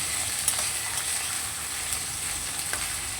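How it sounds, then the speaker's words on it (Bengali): Chickpeas sizzle and fry together with onions in a pan, a steady dense crackle with small stirring scrapes, close and even throughout with no voices. "এবার আমি ছোলাটাকেও দিয়ে দিলাম, একই সঙ্গে ছোলাটাকে ভেজে নেব"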